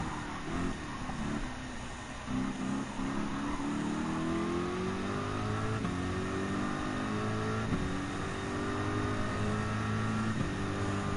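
A Gran Turismo 7 race car engine climbs through gears with rising harmonic whine, repeated upshifts dropping and building the pitch again, loud and steady with no talk over it.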